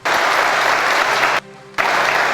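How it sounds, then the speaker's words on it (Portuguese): A church congregation claps steadily and loudly in dense applause, breaking off briefly to a quieter pause before the clapping surges back just as strongly. "Então aplaude o nosso Senhor Jesus Cristo."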